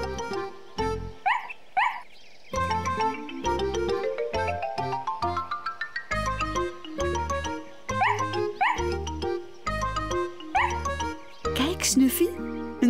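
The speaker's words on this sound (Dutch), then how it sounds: "daar staat een gezellig hondenhok voor Snuffy" A cartoon dog in a children's animation gives short barks and yips alongside bouncy musical tones and a rising sliding effect, with narration over it.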